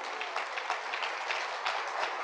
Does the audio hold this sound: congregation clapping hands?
yes